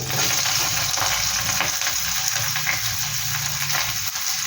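Chopped garlic, ginger and onion fry in a hot pan with a loud, continuous, close sizzle and some stirring, with no voices.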